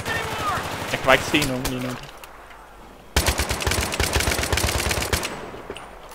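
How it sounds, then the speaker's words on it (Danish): Automatic gunfire in Battlefield 3 rattles in loud, rapid sustained bursts that fill the second half, after a player speaks over quieter game sounds. "Jeg skyder bare op der."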